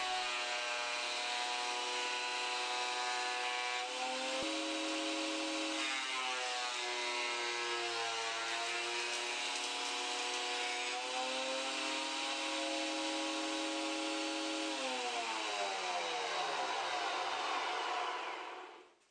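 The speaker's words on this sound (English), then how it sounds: "here planing a piece of LDP, which became the glide pads for my table saw fence" A benchtop jointer/planer runs steadily while planing a strip of LDP plastic into glide pads for a table saw fence, a loud continuous whine whose pitch dips and rises as the cut loads, then spins down at the end.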